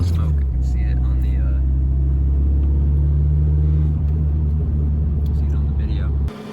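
Loud, close rumble of a 1995 DSM turbocharged 2-liter four-cylinder running rough with a misfire, its uneven low throb steady under a person talking, cutting off near the end.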